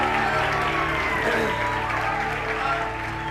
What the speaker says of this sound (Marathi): परत एकदा जोरात टाळ्या वाजवून आपण स्वागत करूया देवाचे महान आणि अभिषिक्त दास बिशप पीटरजी आणि पास्टर जयश्रीजी